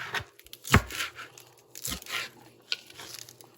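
Knife slicing through rolled-up collard green leaves on a cutting board, with a few sharp crunchy cuts and leafy crinkling between quieter rustles, close and clear.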